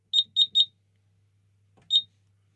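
Kentec Syncro addressable fire alarm panel with Apollo XP95 devices sounding its alert function, three quick high electronic beeps followed after a pause by a fourth, clear and close in a quiet room.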